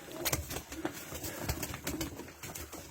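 Pigeons coo softly inside their loft, several low rounded calls repeating at an uneven rhythm over quiet background rustle, close but faint, with no talking.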